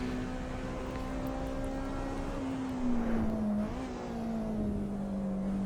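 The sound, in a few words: race car downshifting and tires screeching, Assetto Corsa EVO video game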